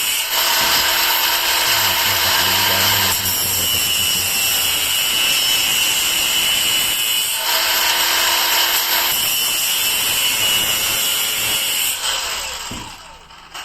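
A Dong Cheng DCSM03-100 cordless brushless angle grinder runs loud and steady, its pitch and load shifting in several stretches as it works, before winding down at the end.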